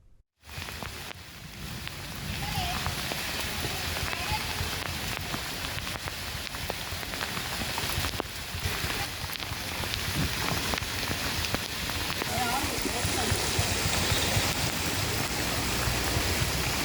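Heavy rain pouring in Secunderabad's Marredpally Cantonment area, a dense, constant roar of drops striking surfaces that starts abruptly and holds steady and loud without any voices.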